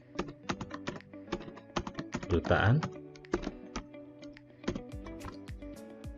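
Someone types on a computer keyboard while entering data in an Excel spreadsheet, with brisk, close, uneven key clicks throughout and a brief voice partway through.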